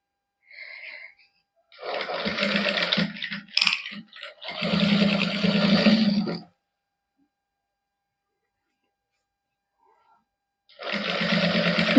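A sewing machine stitching lace onto fabric for a neckline design in a boutique, running in bursts of fast whirring stitches separated by pauses and silence, close and clear.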